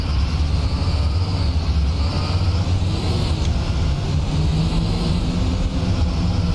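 A school bus engine in a driving video game drones steadily with a low, heavy rumble and broadband road noise, constant in level from start to finish with no talk over it.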